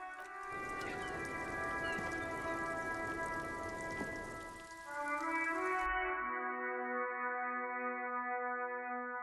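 Steady rain in the video game Disco Elysium patters continuously, joined partway through by a low sustained musical drone that lingers after the rainfall cuts off.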